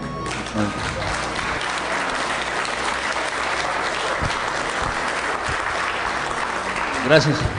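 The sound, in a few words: audience applause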